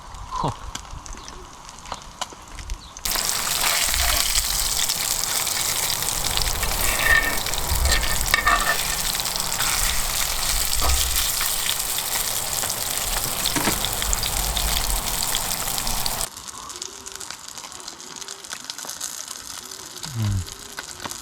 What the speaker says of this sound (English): so it's starting to rain now